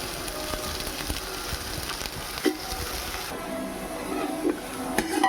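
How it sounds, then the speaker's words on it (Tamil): Chopped onions sautéing in oil until golden for chicken biryani hiss with a constant close sizzle, broken by occasional clinks and scrapes of a spoon against the pan. "ஆனியன் கட் பண்ணி வச்சுருக்கிற ஆனியனை போட்டு நல்ல கோல்டன் கலரில் வர்ற வரைக்கும் வதக்கணுங்க."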